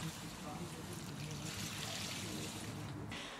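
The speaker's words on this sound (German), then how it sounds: "Und jetzt muss ich die einmal gießen." Water trickling and pouring onto a nearly dried-up houseplant, a steady close liquid stream with a brighter splash near the end.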